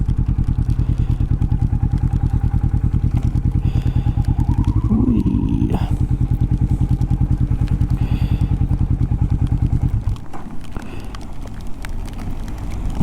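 A Kawasaki Vulcan S motorcycle idles close by with a steady, loud low-pitched thumping rhythm as it is parked, a few clunks in the middle, then the engine cuts off and only a quieter rumble remains.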